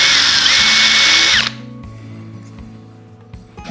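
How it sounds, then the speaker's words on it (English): A power drill whines loudly for over a second as it bores through a plastic practice golf ball, then cuts off, leaving a quieter rumble of the motor winding down. "I'm going to drill a hole on each side of this practice golf ball"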